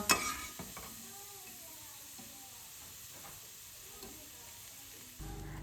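Sliced onions frying in oil for chicken biryani give a soft, steady sizzle and hiss, fairly quiet, with a few light scrapes and taps from stirring and a brief knock near the start.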